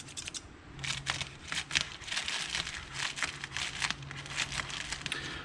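Bubble wrap and packaging being unwrapped while unboxing C7 Corvette jacking gear, a close, steady run of crinkling, rustling and crackling handling noises with no talk.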